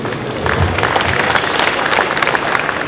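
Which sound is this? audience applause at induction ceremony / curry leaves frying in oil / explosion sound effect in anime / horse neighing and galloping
audience applause at induction ceremony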